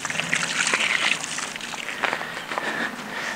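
Water poured over stones at a bushcraft campsite in the Forest of Dean, a close, continuous splashing trickle with sloshing bursts through to the end.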